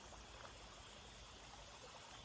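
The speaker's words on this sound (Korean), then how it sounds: "시냇물 소리 들으세요." A babbling stream at a quiet glamping site flows steadily, a continuous broadband wash of trickling water with no voices over it.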